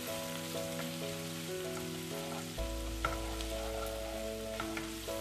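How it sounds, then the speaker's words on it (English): Chopped garlic, jeera and hing fry in hot oil for dal tadka, giving a soft, steady crackling sizzle with faint stirring taps and a low tonal hum running beneath, near and fairly quiet. "to 6 cloves of garlic which are finely chopped. I give this all a nice mix."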